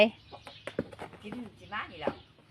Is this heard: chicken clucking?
yes